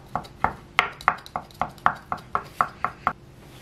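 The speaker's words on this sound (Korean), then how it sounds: "이렇게 잘게 썰어주겠습니다." A knife finely chops crab sticks on a cutting board in about a dozen crisp, evenly spaced knocks, close and clear with no talking.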